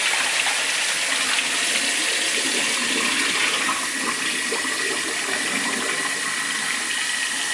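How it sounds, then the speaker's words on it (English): A sink tap runs water steadily while dyed wig water is poured away, a constant close rushing gush with no pauses for the whole stretch. "When I'm dumping the water out, I'm just gonna let the sink run so that we don't get any blue dye anywhere."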